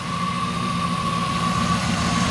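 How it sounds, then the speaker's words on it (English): A stock 1967 Chevrolet Camaro SS/RS 396 big-block V8 with dual exhaust idles steadily up close, a low even rumble with a thin whine riding on top, no voices. "Nice running stock, little big block."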